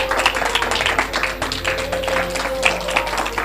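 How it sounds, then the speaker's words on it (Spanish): A church congregation applauds at an evening service, a steady dense wash of many hands clapping at close range with no talk over it. "Dale un fuerte aplauso al Señor en esta noche"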